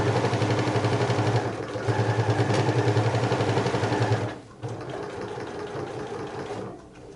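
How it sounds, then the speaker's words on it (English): A sewing machine stitches steadily down the middle of a fabric wine bag, a close, rapid rhythmic whirring that pauses briefly, restarts, then stops near the end. "Then we're going to go sew straight down the middle to meet up with that other chalk mark"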